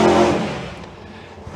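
Drag racing car at Santa Pod Raceway launching off the line on a hot lap, a loud roaring burst that fades as the car pulls away, with a brief rise near the end.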